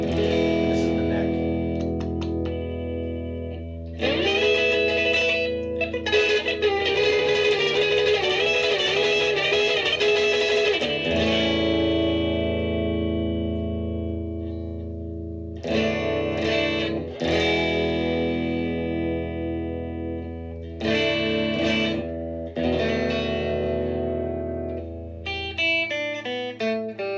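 Squier Stratocaster electric guitar on the neck pickup with a warm, rounded tone plays chords and single notes through effects, ringing with sustain and brief pauses between phrases.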